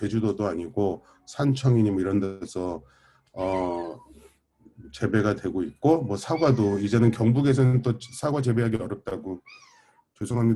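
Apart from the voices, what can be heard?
pet cat meowing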